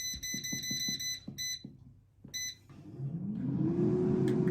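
An air fryer cooking a thin crust pizza at 180 degrees beeps in a series of sharp, evenly spaced electronic tones, pauses, beeps again, then a rising whirring fan noise swells up close.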